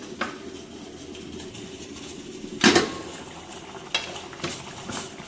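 Coconut is tempered in a pan for a mutton curry, making a steady low sizzle broken by a few sharp clinks of a spoon against the pan.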